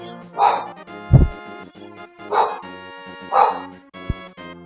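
A pet dog indoors lets out three loud, close barks in a row, with a sharp thump or knock between them and no voices.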